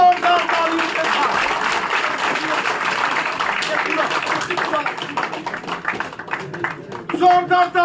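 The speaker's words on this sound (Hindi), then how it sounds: "जोरदार तालियों के साथ" Loud applause and clapping from party supporters at a party office welcome for a politician joining the Bharatiya Janata Party, sustained for several seconds with talk and crowd noise mixed in beneath.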